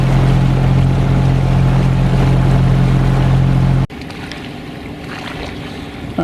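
A sailing boat on a loch off the Sound of Mull, on a windless morning, gives a loud, steady droning hum with water noise. The hum drops abruptly to a quieter wash partway through.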